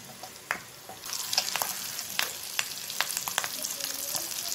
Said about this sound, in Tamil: அதே மாதிரி ஃப்ரை பண்ணிக்கோங்க எல்லா சைடும் திருப்பி திருப்பி